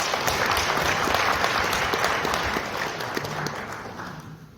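An audience at a CEO seminar held in a hotel applauds as guests are introduced. The clapping is full and sustained, with crisp individual claps, and it gradually tapers off toward the end.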